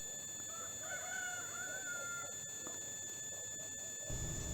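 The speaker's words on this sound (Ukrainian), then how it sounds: "Півність повіщає, що ми вже на місці" A rooster crows once at a distance, a drawn-out call over quiet outdoor background hiss, with a thump near the end.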